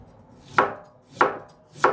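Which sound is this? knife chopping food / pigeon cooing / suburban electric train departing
knife chopping food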